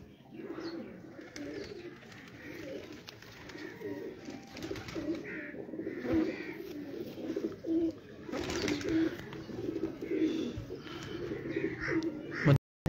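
Pigeons cooing on a rooftop during a pigeon-flying contest, a steady run of soft, low, rolling coos close by, with faint background noise and no talk.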